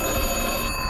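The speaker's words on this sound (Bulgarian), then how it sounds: "Това е старият секретар на мама." An old answering machine rings in a loud, continuous, harsh electronic trill, close and unbroken for the whole moment.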